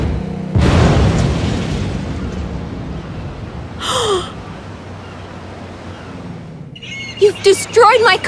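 Car destruction in the LEGO City Undercover video game: a loud crash burst followed by rumbling debris and a later whooshing impact, with a voice reacting at the end.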